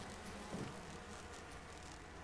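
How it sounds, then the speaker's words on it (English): A steady, faint insect buzz in a quiet, abandoned house in the video game Resident Evil, a low drone that continues without pause. "There's lots of buzzing."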